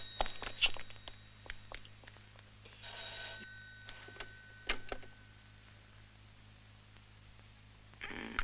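An old-style telephone bell rings in short bursts indoors, in a 1972 French film scene, with quiet pauses between rings over a low steady hum.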